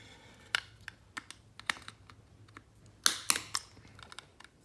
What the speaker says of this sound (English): I'm just going to go around with my pocket knife and slowly pop them off.